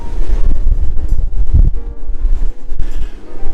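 Strong, cold wind buffets the open upper deck of the Diamond Princess cruise ship, a loud, steady low rumble of gusts against the microphone with no break.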